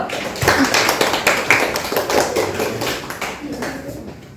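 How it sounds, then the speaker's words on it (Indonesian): A class claps during a Quran lesson, with sharp, uneven claps and taps close by and voices talking over them. "Dah, tepuk tangan dulu."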